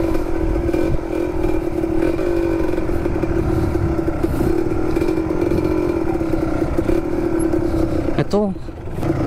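A motorcycle engine drones steadily at close range with rattling and scraping over a bumpy mountain trail near a ravine in Montalban, Rizal, and a voice speaks under the noise.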